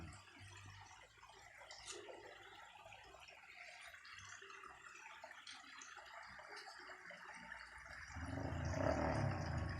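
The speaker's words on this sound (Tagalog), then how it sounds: "dito na ako ngayon sa baba sa may sapa" Creek water flows steadily in an outdoor setting as a broad, even wash of noise, swelling noticeably louder near the end.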